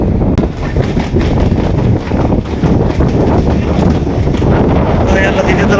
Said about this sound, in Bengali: দ্বিতীয় তলার ফ্রন্টে দেখতে পাচ্ছেন প্রচুর বাতাস আজকে নদীতে